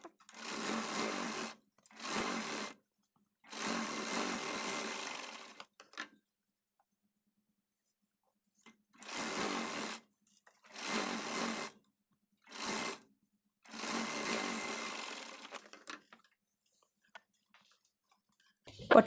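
Sewing machine stitching a waistband onto a blouse, running in several bursts of a few seconds each with silent pauses between them, close and steady, with no voices.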